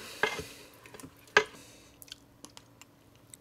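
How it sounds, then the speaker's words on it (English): A spoon stirs a homemade hidden-veggie soup in a pot, giving two sharp scraping clinks followed by softer wet squishes and light taps, quiet and close with no talking. "so I'm gonna stir that up"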